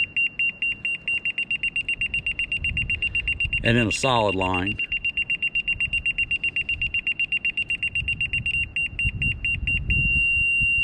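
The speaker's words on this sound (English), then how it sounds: "it beeps at you with an arrow to show you whether to go up or down." A grade laser receiver on a John Deere 35G mini excavator job beeps in a fast, steady, high-pitched train throughout, with someone speaking briefly over it.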